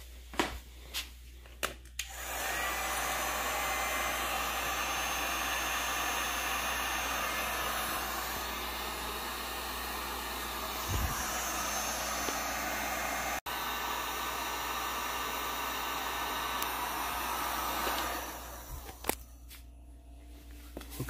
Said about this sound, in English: You can hear the fans on the inverter just running slightly.